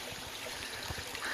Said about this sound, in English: This creek is still flowing. Got some little tiny waterfalls back there.